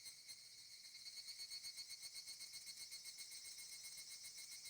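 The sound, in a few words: cicadas crying in the distance, from a video game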